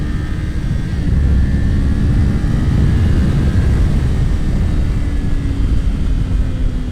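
A 2024 Kawasaki Ninja 500 SE motorcycle engine holds a loud, steady drone with the throttle held open, a constant roar with a faint rising tone and heavy wind rumble, and no talking.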